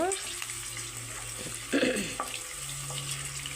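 Cumin rice ingredients fry in a pan with a steady hiss and sizzle, broken by a brief stirring scrape near the middle.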